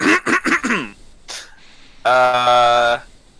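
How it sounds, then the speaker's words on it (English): A man clears his throat in a few rough, rapid bursts up close, followed by a short pause and then a sustained voiced hum-like tone. "you started clearing your throat"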